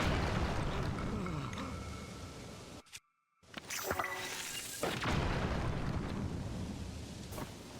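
A bomb flower blowing apart rocks in Zelda: Tears of the Kingdom, heard as a rumbling, gusty blast with a short dead gap and then a rolling boom that fades into wind-like noise, loud and with no speech.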